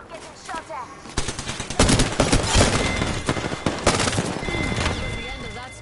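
Dense automatic gunfire and overlapping shots fill a PS4 shooter match, loud and continuous after a quieter start, with a player's voice talking under the bursts.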